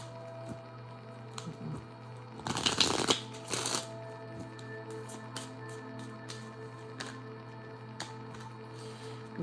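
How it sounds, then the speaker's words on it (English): A deck of tarot cards shuffled in one quick riffle burst followed by a short second flutter, over a steady low hum and scattered faint ticks in a quiet room. "Let me get a good shuffle in."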